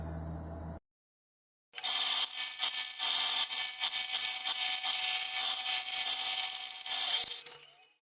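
A homemade scroll saw with a laminated beech pulley cuts wood with a steady, rapid rasping buzz that runs for about six seconds after a short silence, then fades out.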